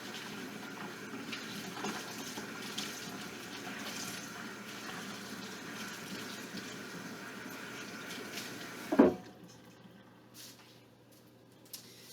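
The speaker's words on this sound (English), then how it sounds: "I gotta wash my hands because they're all slippery from the butter." Hands washed under a running kitchen tap, a steady hiss of flowing water for about nine seconds that cuts off with a thump, followed by quiet drips and a faint clink.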